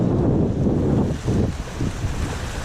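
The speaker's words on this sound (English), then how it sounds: "It's a bit windy, but beautiful." Loud, steady wind buffeting the microphone with low rumbling gusts beside Lake Waikaremoana, New Zealand, continuous throughout, with faint broadband rushing like water or surf behind it.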